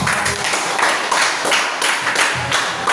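Classroom applause for a group presentation fills the room as steady, dense clapping from many hands, close and loud and holding for a few seconds without speech.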